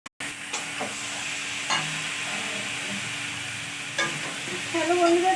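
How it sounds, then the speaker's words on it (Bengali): Water spinach (kalmi shak) frying in a pan, a continuous close sizzle and hiss with a few scraping stirs of a spatula, growing slightly louder near the end. "দেখো তখন কলমি শাক ভাজছিলাম"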